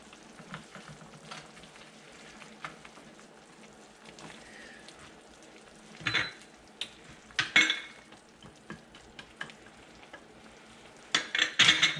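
Carrots for a chicken sotanghon soup sizzle softly in a pan, with quiet, scattered scraping and clatter from stirring over the faint frying hiss.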